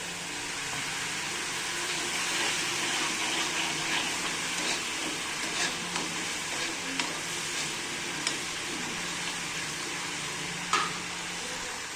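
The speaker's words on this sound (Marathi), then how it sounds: "आता थोडं पाणी टाकून घेते।" Water poured into a sizzling onion and tomato mixture in a pan for sev sabzi, a soft steady hiss and bubbling with a few light clicks and scrapes, no voices.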